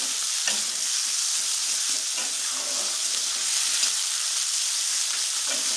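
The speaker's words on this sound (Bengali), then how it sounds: "পেঁয়াজটা একটু লাল লাল করে ভাজবো।" Two medium onions frying in a pan for Bengali-style mutton curry give a loud, steady hiss of hot oil, with a few faint scrapes, close and continuous.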